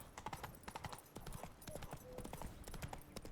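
The horse Roach's hooves clip-clop in a steady, close rhythm across the ground in The Witcher 3: Blood and Wine, with a faint whinny-like tone mixed in and no talking.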